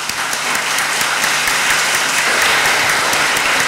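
Sustained, dense applause from a lecture audience after a senator's public talk, loud and continuous for a few seconds with no speech.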